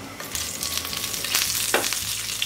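Half a spoon of cumin and two green cardamoms frying in reduced oil for malai kofta curry, giving a steady close crackling sizzle with a few stirring scrapes.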